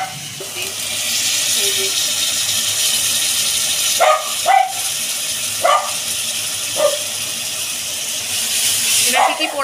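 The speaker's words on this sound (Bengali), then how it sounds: "আমার মনে হয় এই চিমনিটার আওয়াজটা খুবই হচ্ছে, বন্ধ করে দিলাম।" A kitchen chimney exhaust hood running loudly, a steady close whooshing drone that continues throughout while a person talks over it.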